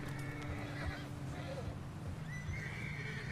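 In Red Dead Redemption 2, a horse's hooves clop under a rumbling game soundscape, then a soft, thin whinny rises near the end, faint and partly masked.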